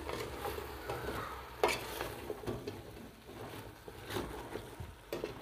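Food sizzling and frying in a pot while barley semolina soup is made, a steady close crackle with faint stirring and a few sharp clinks of utensils against the pot.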